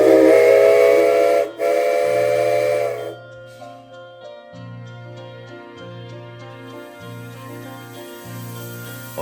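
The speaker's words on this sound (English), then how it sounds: "340's whistle echoed through the crisp morning air" The Rio Grande 340 steam locomotive's whistle blows loud and shrill for a few seconds in crisp morning air, then the train's chuffing and puffing beat on steadily as it departs Durango.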